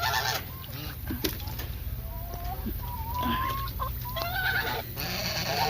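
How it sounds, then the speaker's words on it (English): Geese honk repeatedly in a noisy flock, loud nasal calls overlapping over steady background noise, with no talking. "I normally feed the geese"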